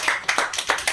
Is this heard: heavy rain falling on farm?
no